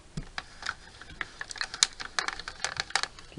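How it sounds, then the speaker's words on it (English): A SideKick mini die cutting machine presses a die into paper with a quick run of sharp, uneven clicks, close up and dry with no talking. "You heard that clicking? That's chomping down on the paper, pressing down."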